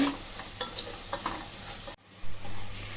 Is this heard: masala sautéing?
yes